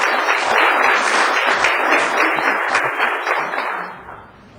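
A city council meeting audience applauds in a dense, steady wash of clapping that thins and fades out over the last second.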